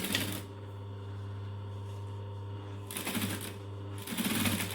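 Sewing machine stitching down the accent panel of a fabric clutch with a 1/4 inch stitch length, a steady mechanical whir running throughout, with brief louder rattling bursts at the start and near the end.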